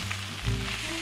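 Scrambled egg with peppers is stir-fried in a hot wok, a short close burst of sizzling and spitting oil with a faint scrape of the spatula, no talking.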